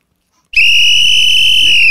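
A sharp, high whistle starts abruptly after half a second of silence and holds steady and loud until the end, with faint background noise beneath.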